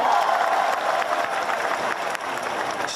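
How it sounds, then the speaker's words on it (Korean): Audience applause at a Busan International Film Festival open talk, a large crowd clapping steadily with scattered light cheers, dipping briefly near the end before carrying on. "여러분 박수 한번 주세요."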